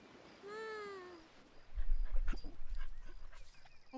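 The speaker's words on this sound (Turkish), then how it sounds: "orada bir köpek var" A dog on a beach gives a single short, high whine, followed by close, uneven rustling and scuffling noises that continue to the end.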